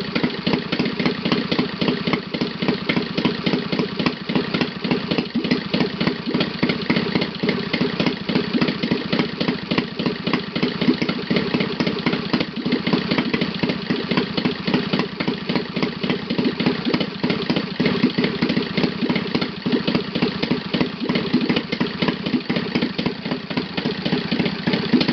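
A Saito FA 270T four-stroke twin model engine idling on 5% nitro fuel, a steady rapid putter with even pulses, loud and close, running alone without pause.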